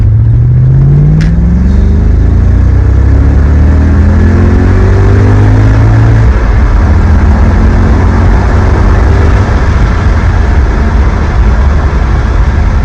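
An Audi S4 B6 engine revving hard and loud, rising in pitch through a climbing run before dropping off to a rough, steady rumble with wind noise, close and without speech.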